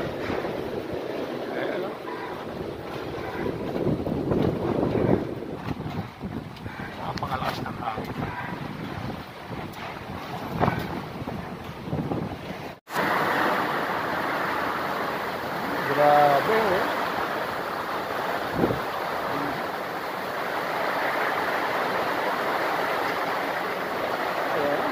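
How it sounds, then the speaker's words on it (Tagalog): A steady roar of strong wind and rain from a typhoon in Calamba City, Laguna, buffets the microphone, a constant heavy wash of noise with gusts and a brief cut midway. "grabe ang hangin at ulan."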